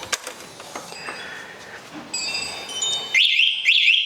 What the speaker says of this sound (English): When you shut the thing off, it's got this annoying security alarm.